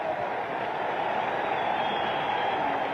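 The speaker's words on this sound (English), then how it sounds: "Listen to the applause." A baseball crowd gives a standing ovation at an All-Star game as a batter comes up, a broad, even wash of distant applause and crowd noise with no single claps standing out.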